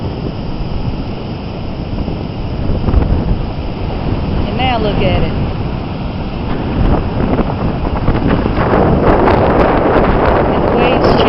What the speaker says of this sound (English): And the waves changed.